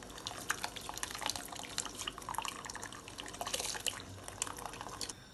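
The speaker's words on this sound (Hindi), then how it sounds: "पानी अभी उबल गया, तो अभी इसमें मैं चावल ऐड कर दूँगा" Rice being poured into boiling water in a pot for biryani, giving a steady close bubbling and pattering with many small watery drips and splashes and no talking.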